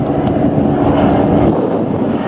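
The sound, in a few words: Morane-Saulnier aircraft flying overhead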